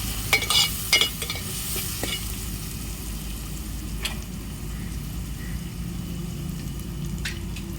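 Eggplant pieces fry in hot oil for a fish curry, a steady close sizzle with a few stirring scrapes and knocks early on, no talking.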